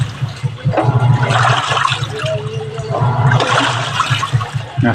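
Close, loud water churning inside a Toshiba top-load washer during its wash cycle, with rhythmic sloshing over a low hum from the motor and no voices.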